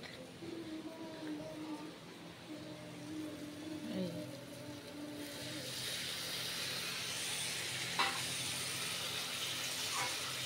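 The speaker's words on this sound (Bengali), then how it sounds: "এর মধ্যে অল্প একটু জল দেব, জল দিলে মশলাটা ভালো কষানো হবে" Water splashed into hot frying fish masala in a Bengali home kitchen sets off a sharp, steady hiss. The sizzle swells about halfway through and then holds loud and even.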